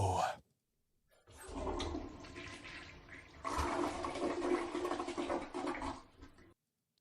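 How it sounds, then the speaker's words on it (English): An economical, low-water toilet flush starts after a short click, then rushes and gurgles loudly for about five seconds before cutting off abruptly. "economical, environmentally friendly flush"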